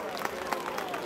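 Applause and crowd noise fill a carnival stage set on a market square as a costumed guard corps is welcomed, a steady wash of clapping with a few louder peaks throughout.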